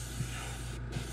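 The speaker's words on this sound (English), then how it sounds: "spray a little extra paint" An airbrush sprays paint along the lateral line of a hand-painted pumpkinseed fishing bait, producing a continuous, close, steady hiss with a brief dip near the end.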